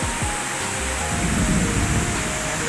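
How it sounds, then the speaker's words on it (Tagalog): Heavy rain pours in a dense, loud steady hiss, with low rumbles of thunder underneath. "malakas na lalong ulan oh"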